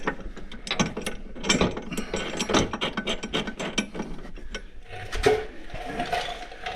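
A hand ratchet tightens 17 mm lift kit bolts on a Polaris Ranger 150, a steady run of rapid clicking strokes close to the microphone with short pauses between bursts.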